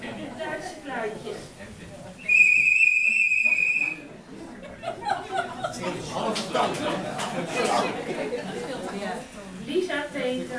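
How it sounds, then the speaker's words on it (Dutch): A German railway station whistle gives a single bright, steady blast of about a second and a half inside a museum hall in Aalten, set between audience chatter and chuckling that resumes right after. "En het Duitse fluitje."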